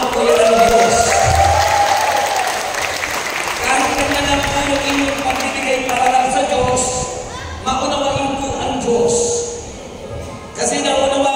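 Audience applause fills a church service, a steady crowd clapping close and loud with murmuring and voices mixed in throughout, dipping briefly near the end.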